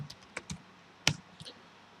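A few quick keystrokes on a computer keyboard, close and sparse taps with one sharper press near the middle, in a quiet room.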